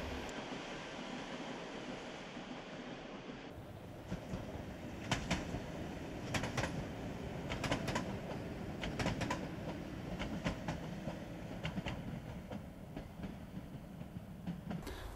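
A train rumbles past Hirschberg station with rhythmic clicking of wheels over rail joints, steady and moderately distant.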